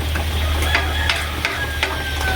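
Steady frying sizzle with a low hum underneath, broken by a few light clinks and scrapes of utensils against a pan.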